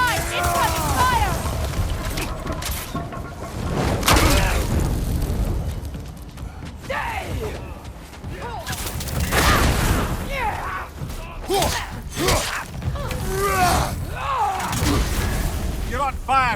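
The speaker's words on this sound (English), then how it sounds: "Right side! Incoming fire!" Heavy booming explosions and bursts of incoming fire in the video game God of War Ragnarok, loud repeated blasts with rumbling mechanisms and shouted voices over the chaos.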